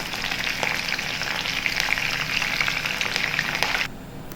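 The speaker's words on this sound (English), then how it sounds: "Add 2 to 3 sliced green chilies, 2 strands of curry leaves, and let them sizzle for a few seconds." Sliced green chilies and curry leaves sizzle vigorously in hot oil in a pan over medium heat, a loud, close, continuous crackle that drops away sharply near the end.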